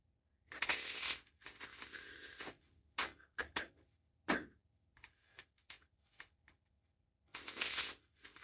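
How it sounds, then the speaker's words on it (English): A deck of oracle cards is shuffled in several quick riffling bursts separated by short pauses and a few sharp taps, close and fairly quiet. "let's pull some oracle cards"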